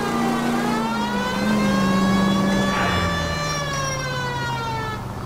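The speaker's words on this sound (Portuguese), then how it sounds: "Parece sirene de ambulância." A police car siren from the video game L.A. Noire wails continuously with slow rising and falling glides over a steady engine drone, loud and close, with no talking.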